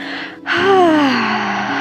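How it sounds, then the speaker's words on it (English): A loud, drawn-out yawn during a grounding yoga practice, opening with a sharp intake and sliding into a long falling, voiced groan that holds strong to the end. "really this time giving a massive yawn as big as loud as you can"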